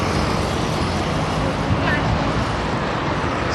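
Road traffic on Valley Road heard from inside a moving car, a steady loud rumble of engine and tyre noise with no breaks.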